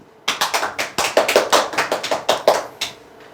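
Clapping from a seminar audience, brief and close, with a burst of around fifteen sharp claps in an uneven rhythm that ends abruptly in quiet.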